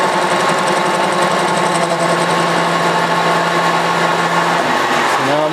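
An old metal planer takes a cut, a loud mechanical chatter and rattling hum with steady grinding under it, the pitch dropping as the machine slows near the end.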